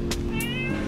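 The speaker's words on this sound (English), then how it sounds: "We love feeding the neighborhood cats over here." Neighborhood street cats in Malaysia meow near feeding time, two short mewing calls with a rising harmonic tone over a steady low background hum.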